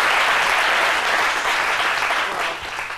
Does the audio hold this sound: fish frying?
no